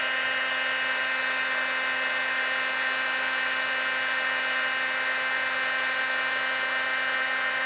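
A heat gun blows steadily close by while heating a stamped card for embossing, a constant whirring hiss with a fixed humming tone and no variation.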